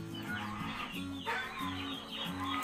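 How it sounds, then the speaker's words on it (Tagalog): Native chickens clucking repeatedly in a backyard farm, a close, steady run of overlapping clucks and calls among other poultry, with no talk. "Dito may bibi din dito at isang native chicken."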